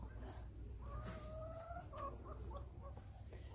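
Chickens cluck and murmur nearby in a series of short, uneven calls over a low background rumble.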